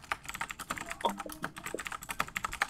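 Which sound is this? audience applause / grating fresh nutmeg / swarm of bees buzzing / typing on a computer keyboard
typing on a computer keyboard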